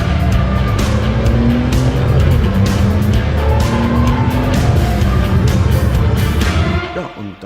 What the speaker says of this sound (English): you really want to drive into some curves with this kind of car and have some fun.